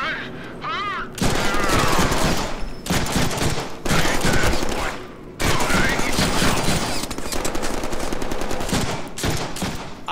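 Dense, loud gunfire from the Deadpool video game, with rapid machine-gun bursts and fusillades filling most of the stretch, broken by a couple of brief pauses.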